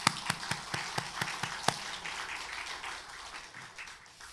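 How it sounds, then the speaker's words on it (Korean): A church congregation claps during a worship service: a few crisp, evenly spaced claps stand out at first, then fade into a soft, distant wash of applause that tapers off. "우리 감사의 박수 한번 하겠습니다"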